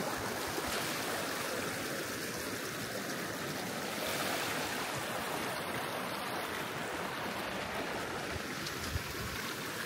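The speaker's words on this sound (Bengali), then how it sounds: "ঢেউ।" Ocean waves wash continuously onto the shore, a broad steady roar of surf with no voices, close and fairly loud.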